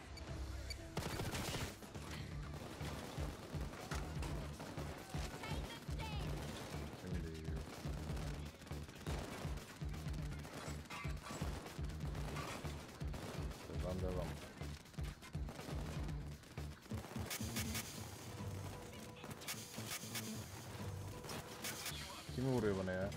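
Rapid gunfire in the video game Payday 2, dense bursts of automatic shots and scattered single cracks running almost nonstop at close range, with voices talking through the firefight.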